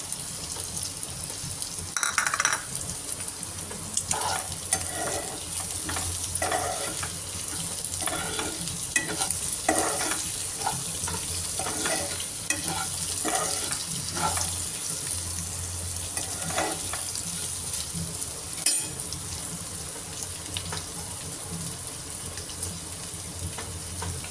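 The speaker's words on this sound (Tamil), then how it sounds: "இப்போ வேக வச்சு கட் பண்ணி வச்சுருக்க முட்டையை போடணும்" Boiled, cut eggs tossed and stir-fried in a pepper masala pan, a continuous sizzle broken by repeated scraping stirs and clinks of the spatula, close up with no voices.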